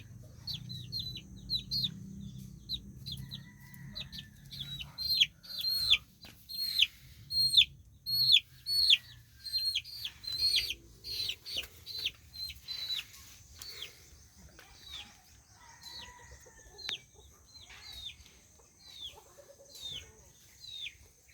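Repeated high chirps and soft clucking from chickens continue for a long stretch, with a low hum underneath and occasional quiet knocks.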